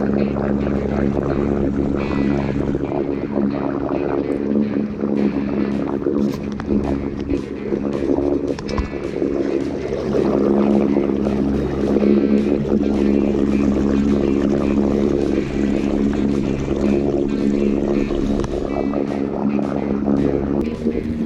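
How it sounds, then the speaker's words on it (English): Electric trolling motor side-mounted on a Hobie pedal kayak moving across a lake, a steady close motor drone with water and wind noise running throughout without pause. "So with the trolling motor on and 2 people pedaling, we were able to move along the lake quite nicely."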